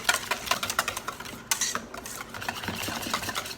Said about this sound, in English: Get my whisk, make it a little bit easier